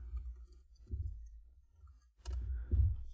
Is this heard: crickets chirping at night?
no